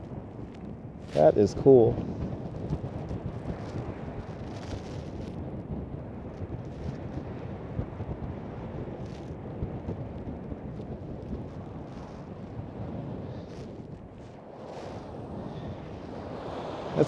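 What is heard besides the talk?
wind blowing snow and sand on Coney Island beach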